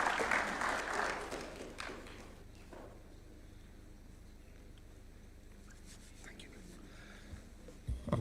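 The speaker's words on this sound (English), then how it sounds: "Let's welcome him with a warm clap, please." Applause from an audience at a State House event, a fairly loud burst of clapping at the start that fades quickly into quiet room tone, with a faint murmur and small noises later.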